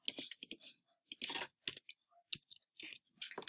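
A computer keyboard clicks nearby in quick, irregular bursts of keystrokes separated by short pauses, fairly quiet and with no talking.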